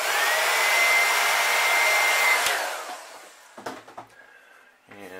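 A hair dryer heat-setting paint on a pumpkinseed-pattern crankbait fishing lure, a steady loud whirring blow with a high whine that cuts off abruptly, followed by a few light clicks and handling knocks.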